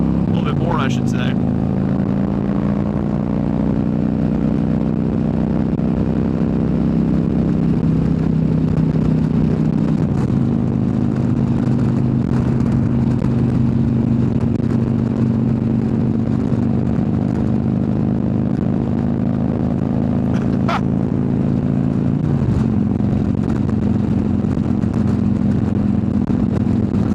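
2015 Harley-Davidson Street Glide being ridden and opened up past 3,000 rpm: a loud, steady, deep engine drone that climbs in pitch, with shifts in tone along the way, under wind noise and a voice.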